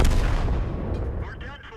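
A heavy tank cannon shot in World of Tanks booms loud and close, its deep blast rolling and decaying over a second or so while a voice talks faintly underneath.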